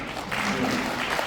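Brief burst of audience clapping at a Korean civic association lecture, steady and moderately loud, with a faint voice underneath.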